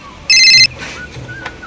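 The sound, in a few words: mobile phone ringtone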